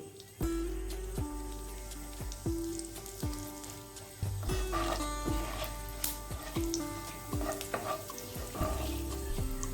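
Cinnamon, cloves, cardamom, a bay leaf and half a spoon of cumin sizzle in hot oil for masala paneer, a soft crackling under a recurring rhythmic mechanical hum and low thumps, with no talking.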